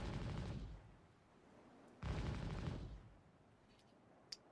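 Rapid turret gunfire from a ship in Star Citizen, two dense bursts of fast fire about two seconds apart, fairly quiet and distant, with a small click near the end.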